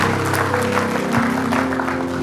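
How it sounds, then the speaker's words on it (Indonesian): A church congregation applauds during a sermon: dense, steady clapping fills the whole stretch, with a sustained musical tone held underneath and no one speaking. "Tepuk tangan buat Tuhan"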